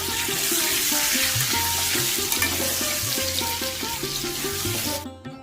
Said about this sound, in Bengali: আলুটাকে আর পটলটাকে কিন্তু এবার আমি একসাথেই ভেজে নেব।